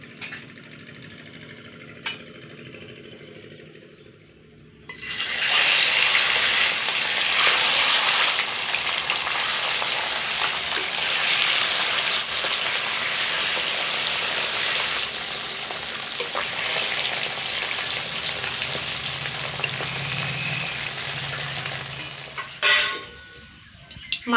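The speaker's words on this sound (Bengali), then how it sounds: "এবার এই মাছগুলোকে তেলের মধ্যে খুব সুন্দর করে ভেজে নেব।" Bata fish seasoned with salt and turmeric sizzles loudly in hot oil, a dense, continuous frying hiss that starts abruptly after a quiet opening and runs nearly to the end, with no talking.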